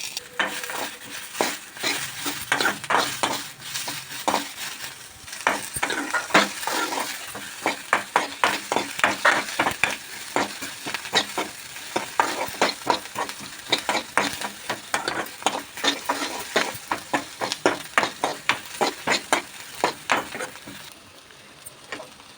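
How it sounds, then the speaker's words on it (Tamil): Onions sizzle steadily in hot oil, turning golden brown for a spicy chutney, while a spoon scrapes and stirs through them in repeated strokes, close and continuous with no talking. "இந்த வெங்காயம் வந்து இப்போ நல்லா வதங்கணும் நல்லா கோல்டன் ப்ரௌன் கலருக்கு நல்லா சுருங்கி"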